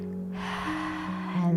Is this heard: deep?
yes